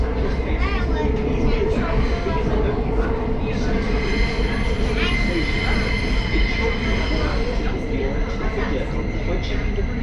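A London Underground train runs on its rails, giving a loud continuous rumble with squealing wheels, while a recorded platform announcement plays over it.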